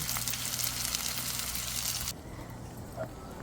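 Spicy island salmon sizzles in a pan with a loud, dense hiss for about two seconds, then drops abruptly to a much quieter, fainter frying sound.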